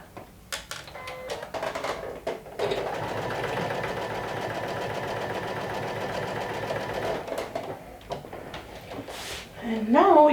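A sewing machine stitches down a folded quarter-inch hem, running in one steady whirring burst of about five seconds after a few handling clicks, then stopping as a voice begins at the end.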